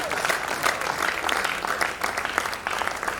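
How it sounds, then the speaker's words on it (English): Audience applause for a panel at a summit conference, steady and dense clapping filling the whole stretch at moderate loudness, with no voices standing out. "A round of applause for them."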